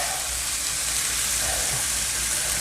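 Chopped onion sizzles steadily in a hot pan alongside browning pork, a dense, even crackle of frying that holds at close range with no voices over it.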